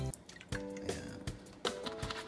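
Vinegar, about half a cup, poured into a pan while cooking skipjack tuna stewed in coconut milk: a short liquid splash and trickle with a few drips, close and fairly quiet, no talk.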